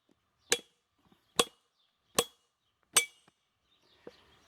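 A bar holding soft rivets takes four sharp, ringing whacks against an anvil edge, evenly spaced about three quarters of a second apart, with a softer final tap and faint clinks between the blows.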